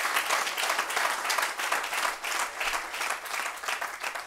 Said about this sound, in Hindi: मैं चाहता हूं सारा सदन हाथ उठाकर एक बार जोरदार तालियां सर के लिए बजाए।